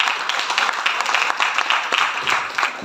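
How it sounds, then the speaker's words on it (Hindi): A room full of people clapping for a speaker, steady and fairly loud, the claps blending into a continuous patter with little voice beneath. "एक बार इनके लिए जोरदार ताली बजाइए।"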